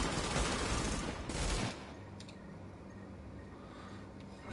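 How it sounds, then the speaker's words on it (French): Small-arms gunfire in a PS4 shooter game crackles as a dense, rapid fusillade for over a second, then stops abruptly, leaving faint scattered ticks and a quiet background hum. "Nous essuyons des tirs d'armes légères"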